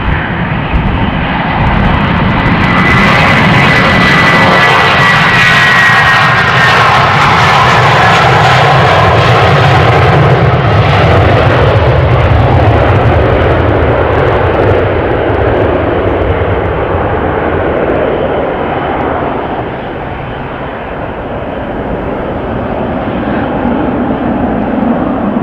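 A Royal Jordanian jet airliner takes off at Amsterdam Schiphol, its engines roaring loud and sustained, dipping briefly before swelling again as the aircraft climbs away.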